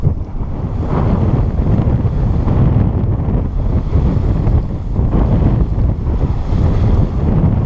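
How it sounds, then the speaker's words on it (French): Strong wind of about 15 knots roars across a sailboat at sea near northern Sardinia, a steady loud buffeting rush with microphone wind noise and the wash of waves, constant throughout with no voices. "il y a un bon 15 nœuds de vent maintenant"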